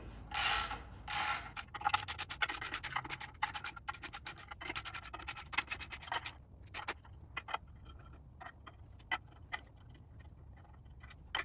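Bolts on the clutch plate of a 1977 MGB backed off slowly by hand, giving dense bursts of metallic ratcheting clicks that thin out into sparse, quieter ticks, close up with no talking.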